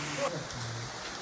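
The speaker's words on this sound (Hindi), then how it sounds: "अभी मैं माउस माई केव में हूँ और बाहर बारिश बहुत ज़्यादा है" Heavy monsoon rain pours outside Mawsmai cave in Meghalaya, a constant hissing wash with a low voice-like hum running beneath it.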